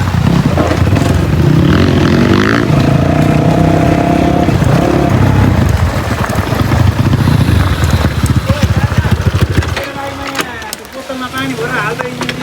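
Illegal dirt bike engines rev and rumble loudly on a ride, the roar rising and falling over about ten seconds before dropping away, with voices talking over the noise.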